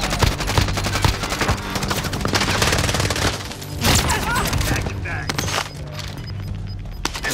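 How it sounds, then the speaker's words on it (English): Dense hostile automatic gunfire rattles almost nonstop through a Call of Duty: Modern Warfare firefight, loud and close, with bursts of shots and booms layered under players' voices. "Contact! Staying in fire. Receiving hostile fire."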